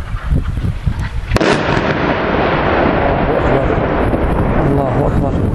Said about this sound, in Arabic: قصف عنيف بالمدفعية والهون.